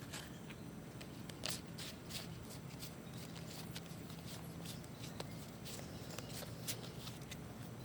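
Cards from a tarot deck are riffled and shuffled in a series of quick crisp bursts at close range, with light rustling between them and no voices.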